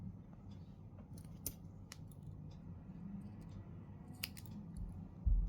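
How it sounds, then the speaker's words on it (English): Scissors snip through leftover yarn at the end of a crochet donut amigurumi keychain, a few sharp close cuts and small handling clicks spread over a quiet background with no talking. "then I'll just cut the extra yarn"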